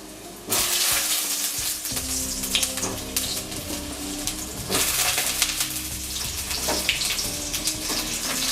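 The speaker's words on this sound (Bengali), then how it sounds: "প্রথমেই আলুগুলোকে ভেজে নিচ্ছি।" Potatoes frying in hot oil, likely mustard oil, for a Bengali chicken kosha: a loud, steady sizzle and crackle starting just after the opening, with bubbling bursts and a few faint stirring clinks throughout, no talking.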